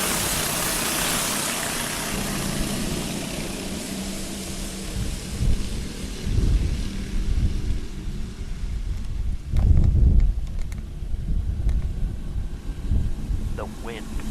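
Strong wind buffets the microphones during a go-kart race restart, a broad roaring rush with low booming gusts that peak near the middle, while a commentator talks over it.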